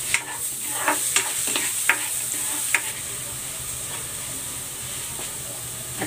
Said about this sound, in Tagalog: Igisa ko na tong bawang.